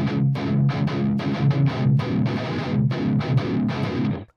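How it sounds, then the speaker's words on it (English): Heavily distorted electric guitar playing a section of a metal song, chugging rhythmic chords with short stops and restarts, loud and dense throughout with no voices. "So this is what the guitar sounds like for this section."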